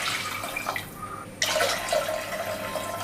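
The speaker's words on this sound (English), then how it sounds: "now I'm going to add in 3 cups of water" Water poured from a measuring cup into a pressure cooker while making tomato rice, a steady splashing pour that pauses briefly and then resumes, close and moderately loud with no talk.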